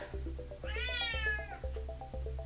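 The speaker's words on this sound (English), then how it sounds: "being yelled at by the cat" A house cat meows loudly and insistently in one long drawn-out yowl, close to the microphone, over a rhythmic mechanical thumping in the background.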